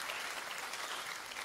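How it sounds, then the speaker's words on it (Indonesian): A church congregation bursts into steady, dense applause during a sermon, a continuous wash of many hands clapping at full volume with no break, and no speech over it. "Tepuk tangan."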